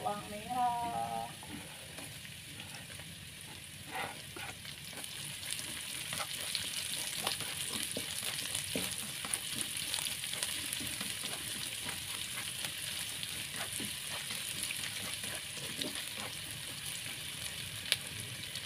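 Garlic and shallots stir-frying in a pan, a continuous faint sizzle with scattered stirring clicks throughout, a brief voice-like sound at the very start.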